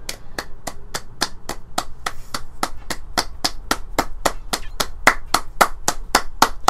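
Synchronized clapping in a steady, even rhythm, sharp single claps landing together at regular intervals, close and fairly loud, with no talk over the beat.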